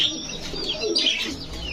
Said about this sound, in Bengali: দেখেন কতটা ছটফটে কবুতর